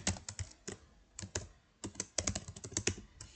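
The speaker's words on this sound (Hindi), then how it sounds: "तो शिफ्ट प्लस एंटर दबाओ" Computer keyboard keys, including Shift and Enter, are pressed while running Python code, producing close, crisp clicks in uneven bursts with short pauses between.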